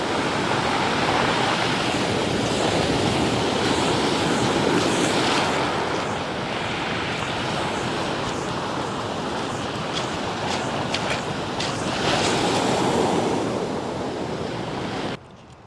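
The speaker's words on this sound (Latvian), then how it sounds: "Bet arī līdz ar to jūra nāk krastā ārā." Steady roar of Baltic Sea waves washing onto the shore near Užava, Latvia, loud and continuous, with a warm south wind buffeting the microphone throughout.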